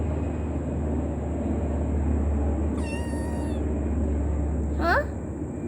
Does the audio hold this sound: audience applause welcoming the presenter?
no